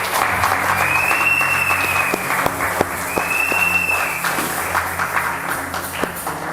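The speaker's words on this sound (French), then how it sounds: "est-ce que tu peux acclamer pour Jésus?" A church congregation applauds and cheers loudly and steadily, a dense wash of clapping with crowd voices that carries on for several seconds at a worship service.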